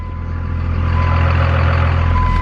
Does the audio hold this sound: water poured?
no